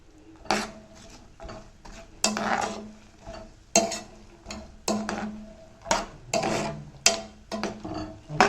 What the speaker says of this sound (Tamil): உப்பு சேர்த்து இதை ஒரு பரட்டி விட்டுக்கலாம்.